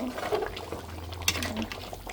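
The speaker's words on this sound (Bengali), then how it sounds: "ক্যাটালে পানি গরম করে রাখছি গরম পানি এটা দিয়ে দিলাম" Hot water from a kettle is poured into a pot of simmering beef curry, making a close gurgling splash and bubbling hiss with some background voice.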